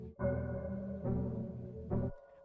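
Time-stretched bell sample made in FL Studio, heard as three sustained, smeared chime chords, each swelling and holding before the next, moderately loud and with no voice.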